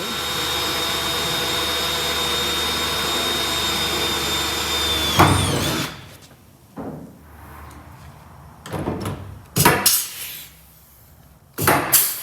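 A power drill with a sharp bit bores holes for pop rivets in side panels, whirring steadily and loudly for about five seconds before winding down, followed by several short, separate drilling bursts.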